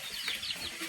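Chickens clucking close by in a Bisaya farmyard, a steady busy texture of short clucks with no talking over them.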